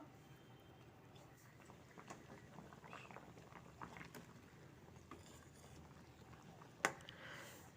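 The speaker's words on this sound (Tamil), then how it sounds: "ஒரு ரெண்டு நிமிஷம் கொதிக்க வச்சிடலாம்" A pot of coconut milk fish curry bubbles and simmers quietly in a steady low sputter, with a single sharp clink near the end.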